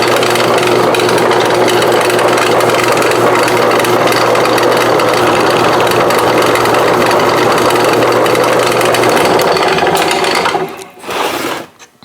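A power drill bores a 13/64 inch hole about 1.5 inches deep for a roof rack traction board mounting pin, whining loud and steady up close before spinning down and starting briefly again near the end.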